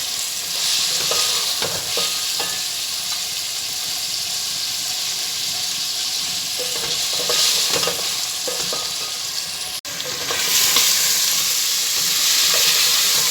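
Garlic, ginger and green chilies sizzle steadily in hot oil with onion and chicken, close by, with occasional scraping stirs and a brief pause before the frying resumes loudly.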